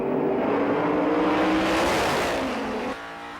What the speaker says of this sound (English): Just listen to the growl of those V8s as they hit the hammer